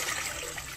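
Milk pouring into a mixing bowl for Turkish bread rolls, a steady close liquid stream running without a break.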